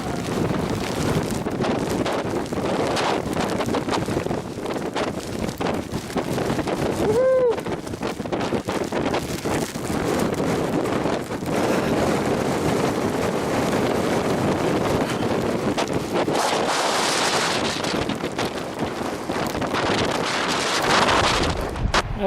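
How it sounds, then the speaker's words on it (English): Strong gusts buffet the microphone on a coastal bluff at Cape Blanco on the Oregon coast, a continuous roaring rumble that surges and eases over the whole stretch, with a brief voice heard partway through. "Very, very blustery day that day."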